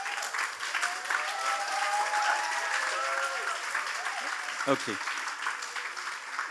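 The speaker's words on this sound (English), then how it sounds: "thank you so much for the great applause" Audience applause at a closing event of a youth leadership summit, a steady wash of many hands clapping throughout, with a short spoken word near the end.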